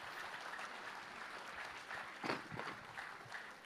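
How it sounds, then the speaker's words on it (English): Audience applause after a talk at an award ceremony, a fairly faint, steady wash of many hands clapping with a brief louder surge near the end. "Round of applause for Mr. Prakash Padukone, please."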